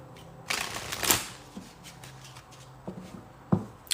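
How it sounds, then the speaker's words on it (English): A deck of oracle cards is shuffled close by, with soft riffling bursts and light scraping taps spread across a quiet moment. "let's pull a few oracle cards here"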